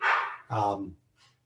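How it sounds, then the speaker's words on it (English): A dog nearby gives two quick barks in close succession, then a faint third yelp, in an otherwise quiet indoor room. "my dog's barking"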